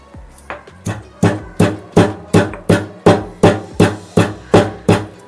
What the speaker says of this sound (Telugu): ధనియాలు, జీలకర్ర ఇది కొద్దిగా దంచుదాం